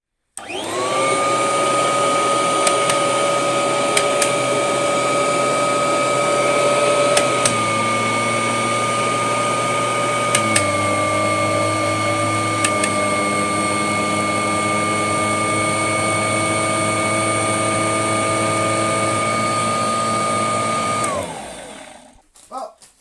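A carpet cleaning machine works over a piece of abandoned carpet, a loud, steady motor drone with whining tones that shift pitch a few times, running alone for about twenty seconds before winding down at the end.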